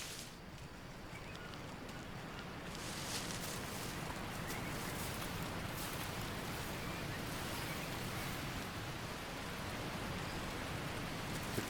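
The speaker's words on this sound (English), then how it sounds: "Is that thunder? It's gonna pour rain on us" Jungle rain in the survival video game Green Hell, a steady, even hiss of pouring rain that continues unbroken at low volume throughout.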